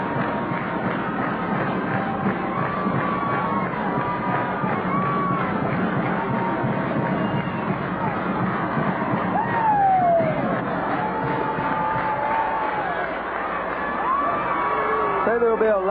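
A packed gym crowd at a 1994 15th Region basketball championship between Allen Central and Pike County Central roars and cheers continuously, with whoops and shouts rising over a steady babble of voices.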